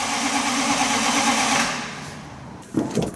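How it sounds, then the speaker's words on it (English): Car engine in a 700 bhp drift build cranking over on a new starter motor, a steady loud whirring churn that fades out, followed by a couple of short knocks near the end. "Listen to how much better your starter motor sounds."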